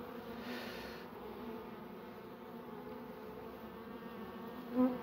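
Steady, dense buzzing of many honeybees around hives, close and continuous, with no voices.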